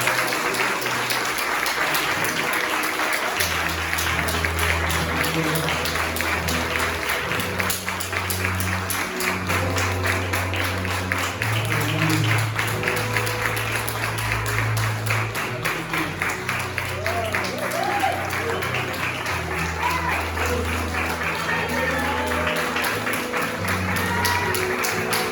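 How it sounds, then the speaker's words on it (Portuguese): A church congregation claps together in a sustained round of applause, with low tones and voices running underneath. "Você pode aplaudir Jesus?"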